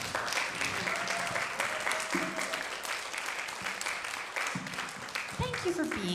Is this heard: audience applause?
yes